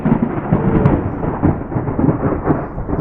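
Thunder rolls from a nearby thunderstorm after heavy rain, a loud continuous low rumble swelling and fading over a few seconds with no voices.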